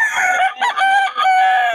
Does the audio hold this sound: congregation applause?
no